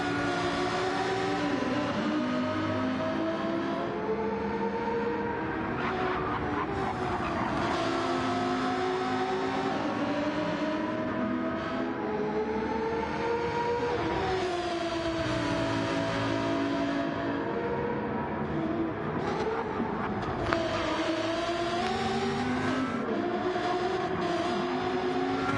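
Four-wheel-drive Gr.4 race cars lapping Trial Mountain in a racing video game, engines revving and shifting continuously with rising and falling pitch sweeps, loud and alone throughout.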